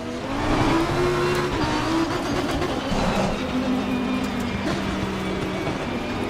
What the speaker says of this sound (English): It's got that typical Lamborghini sound though, the engines.